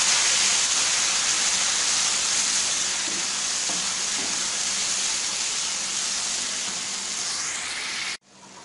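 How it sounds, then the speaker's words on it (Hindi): Peeled tomatoes fry in a pot, a loud steady hissing sizzle with a few stirring knocks, fading slightly before cutting off abruptly near the end. "अभी मैंने इसके अंदर टमाटर ऐड कर देने हैं, मैंने इनका छिलका उतार लिया था, अभी ये ऐड कर देंगे और अच्छे तरीके से मिक्स कर लेंगे।"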